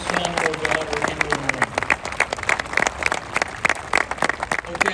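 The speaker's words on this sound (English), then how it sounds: "let's give these Marines and sailor a round of applause for a job well done" Audience applause fills a Marine graduation ceremony in San Diego, a dense, steady crowd clapping with sharp individual claps throughout, some voices mixed in.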